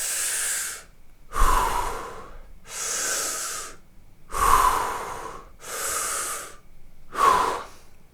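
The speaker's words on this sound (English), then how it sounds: "deep breath." Slow, deep breathing cycles, about six breaths alternating long airy inhales and exhales, close and clear with no talking, taken while lying down in a comfortable position.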